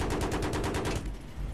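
Rapid bursts of automatic gunfire from the video game Battlefield 3, fired during helicopter play, pulse quickly and evenly for about a second before cutting off, leaving a low rumble behind.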